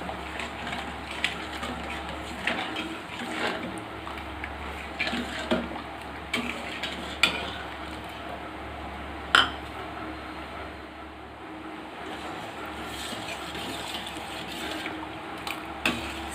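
A spoon stirs sugar into milk payasam in a pot on a stove, with scattered soft clinks and taps against the pot over a faint, steady background hum.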